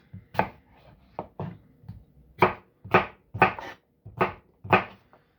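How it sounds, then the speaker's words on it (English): A knife dices fruit for a fruit salad on a cutting board, with about ten separate sharp chopping knocks in an uneven rhythm, close and distinct with quiet gaps between, no talking. "Diced about like this for the fruit salad."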